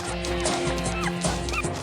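A cartoon dog barks and yips in a short, lively burst over background music, close and fairly loud.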